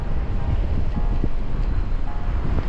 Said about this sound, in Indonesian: kalian harusnya kedengeran sih ini suara angin